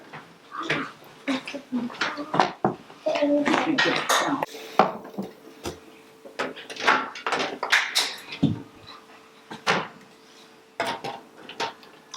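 Glass jars of applesauce clink and knock against a metal canner repeatedly as they are lifted out after boiling and set down, a steady series of close clatters.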